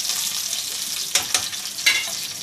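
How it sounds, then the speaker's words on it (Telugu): Onions frying in oil until browned for a prawn fry biryani, a steady bright sizzle up close, broken by a few louder stirring scrapes. "బాగా బ్రౌన్ కలర్ వచ్చేంత వరకు కూడా మగ్గబెట్టేసుకోవాలండి నూనెలోనే."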